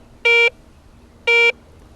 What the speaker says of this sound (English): targets of medium conductivity, such as jewelry, nickels, or foreign coins, sound like this